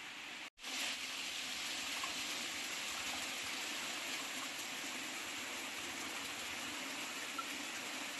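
A small mountain stream flows over rocks on a hillside, giving a soft, continuous watery hiss heard up close and alone, with a brief thump near the start.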